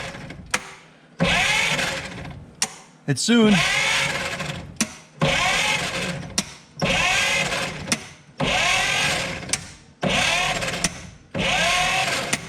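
A hammer wrench taps repeatedly at a stuck valve in the engine of an abandoned 1950 Dodge pilothouse truck, in about eight steady, loud metallic bursts with short pauses between them. A voice speaks briefly.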